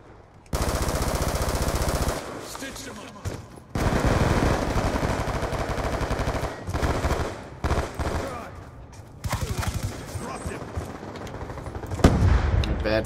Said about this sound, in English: Shooting at each other.